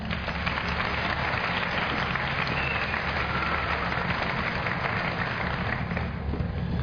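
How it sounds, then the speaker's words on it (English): Graduation ceremony audience applauding, a steady, dense wash of clapping from a large crowd that holds at an even level throughout, with no talk over it. "Let's give them a round of applause."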